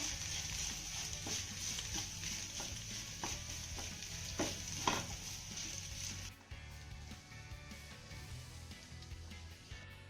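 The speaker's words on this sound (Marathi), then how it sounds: "हा बटाटा आपल्याला चांगला मिक्स करून घ्यायचा आहे" Mashed boiled potatoes stirred into a hot sizzling tempering in a pan, with repeated scraping strokes over a constant sizzle that drops suddenly partway through, no talking.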